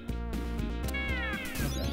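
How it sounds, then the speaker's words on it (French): A cat meows in the Moonwalker video game, a short synthesized cry rising over steady, loud game music that continues throughout. "Ça c'est un chat, ouais."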